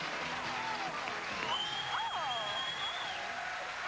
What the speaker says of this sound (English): Listen to them whistling.